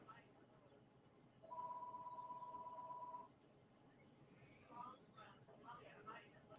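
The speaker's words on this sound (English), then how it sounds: "Somebody is calling the house phone right now." A house telephone rings once with a steady electronic tone for about two seconds, clear over a low background hum, followed by faint indistinct sounds.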